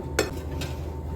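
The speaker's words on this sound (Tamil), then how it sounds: "ஈவனாக நல்லா மிக்ஸ் ஆகிற மாதிரி நல்லா கலந்துக்கோங்க" Poha dry fruit laddu mixture is stirred in a bowl, with a sharp scrape near the start and another softer scrape about half a second later, close and fairly quiet.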